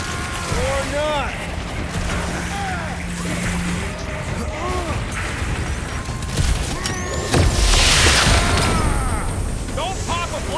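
Explosions and booming blasts burst in a Marvel's Guardians of the Galaxy PC game battle, with a heavy blast near the middle set among whooshing effects, music and character voices talking.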